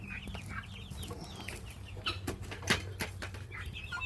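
Backyard chickens cluck and squawk in their coop, with a brief burst of flapping wings midway; calls are close and steady over a low background hum.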